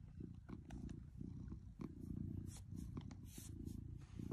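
A small kitten purrs continuously close by: a soft, low, rhythmic rumble, quiet and steady throughout, with a few faint light rustles.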